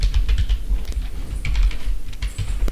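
Code being typed on a computer keyboard, a quick irregular run of close, crisp key clicks and clatters with short pauses, no talking.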